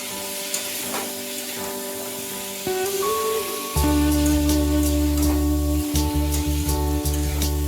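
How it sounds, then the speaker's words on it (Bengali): Potatoes and yardlong beans frying in a pan, a steady sizzle that grows louder midway and then holds, with faint clinks over the top and no talking. "ভালো করে আলু আর বটবটিগুলো একটু ভেজে নেব।"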